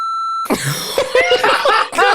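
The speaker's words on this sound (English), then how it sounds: "everybody hear that long beep?" A steady electronic beep tone lasts just under half a second, then cuts off as coughing and groaning voices follow.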